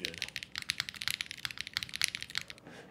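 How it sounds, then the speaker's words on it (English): Fast, crisp keystrokes on a computer keyboard with a snake design, heard up close as an uneven, rapid patter of clicks that continues without a break. "I'm legitimately so in love with this keyboard right now."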